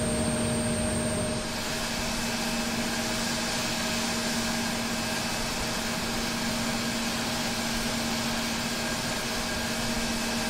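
Embraer E170 jet engine running steadily in Microsoft Flight Simulator 2020 after start, a loud continuous whine and roar with a sustained high tone, unbroken throughout with no talking.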